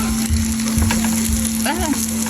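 Okonomiyaki, the Japanese savory pancake, sizzles loudly and steadily on a hot griddle just after being flipped, a dense frying hiss with a few soft scraping and tapping touches, no talking.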